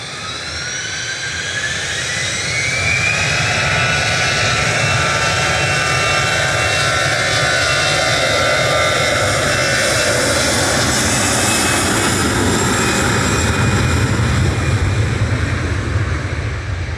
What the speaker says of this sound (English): EasyJet off to Amsterdam there, GEZ UF A320-200 with flight 2161